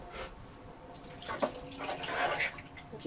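Yellow liquid poured out of a preserving jar of fruit peels, heard as short splashing and gurgling bursts of liquid falling into a sink, close and fairly quiet with pauses in between.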